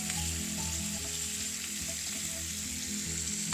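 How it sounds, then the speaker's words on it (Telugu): Dried red chillies, onions and tomatoes fry in hot oil with a steady, close crackling sizzle, alone without talk. "వేసి బాగా వేయించుకోవాలి పచ్చి వాసన పోయేంత వరకు వేయించుకోవాలి"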